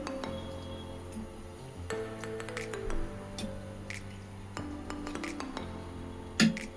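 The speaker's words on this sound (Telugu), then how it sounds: "ఇదంతా ఈ బౌల్లో వేస్తున్నాను." Washed raw chicken leg pieces dropping into a bowl, giving soft wet thuds and light clinks against the bowl over a steady background hum, with a louder clank near the end.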